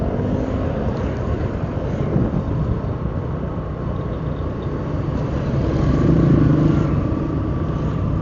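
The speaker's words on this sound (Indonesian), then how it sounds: "ada bus-bus di depan." Road traffic with buses passes near a school in Tanah Seribu, Binjai, as a continuous rumbling engine drone that swells louder toward the end, with no talk over it.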